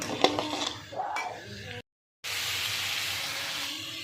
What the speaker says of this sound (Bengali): এবারে কিন্তু ভেজে রাখা ডিমটা দিয়ে দিলাম। দিয়ে আবার একটু নাড়াচাড়া করে নিচ্ছি।